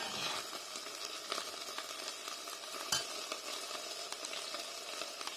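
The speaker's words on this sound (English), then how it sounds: "now we can see it's basically coming up to the boil roughly, just a little bit of a simmer" Cheese sauce for a healthy mac and cheese bubbles at a gentle simmer in a pan, a steady soft crackle and hiss with scattered pops and faint utensil clinks, no voices.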